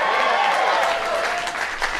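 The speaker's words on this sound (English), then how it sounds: "Thank you for the Luigi applause." A crowd at a comedy show applauds in a steady, fairly loud burst of clapping that stays even throughout.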